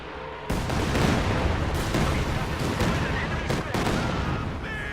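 Indirect artillery fire in a Warhammer 40K battle game, a dense continuous roar of booming blasts and gunfire with several sharp bursts, loud and close, without talk.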